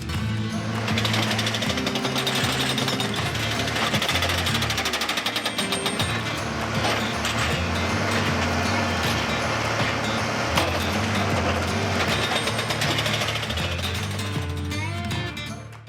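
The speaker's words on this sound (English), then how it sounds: "a spike machine secures each tie to the rails" A railroad spike machine drives spikes into ties during hurricane-damage rail repair, a loud, steady rapid mechanical hammering and chattering that runs continuously without pause.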